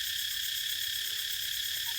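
Cicadas drone in rural countryside under trees, a steady, continuous high-pitched buzzing that fills the whole moment without a break.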